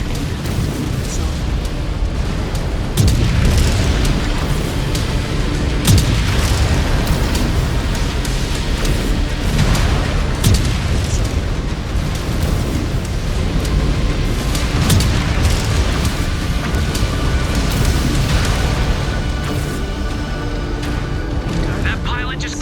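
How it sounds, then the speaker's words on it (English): Missile explosions boom repeatedly in MechWarrior 5 Clans combat, loud dense blasts and rumbling impacts layered over constant battle noise, with a voice speaking over them. "Incoming missile."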